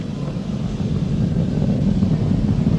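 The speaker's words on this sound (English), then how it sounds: "We're throttling back up to full power as we're through max Q." SpaceX Falcon 9 rocket engines at full power rumble as a deep, steady, muffled roar, heavy in the low end and continuous for the short stretch, with no talk.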